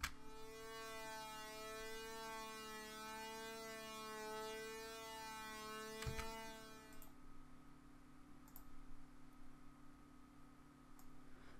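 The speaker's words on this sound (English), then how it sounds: "there's an LFO here which is controlling the fine tune, so that gives it like a vibrato type effect" A Serum synth patch built on a dirty saw wavetable sustains a buzzy, harmonic-rich tone with LFO vibrato wobbling the pitch, then stops abruptly, leaving a low steady hum and faint ticks.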